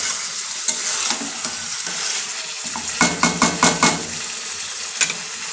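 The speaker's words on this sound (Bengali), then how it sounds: "এই যে কষাচ্ছি এবার ভালো করে মাংসটাকে" Meat being stir-fried (kosha) in a pan: a steady sizzle with a run of quick scraping and clanking stirs near the middle, close and loud, with no talk.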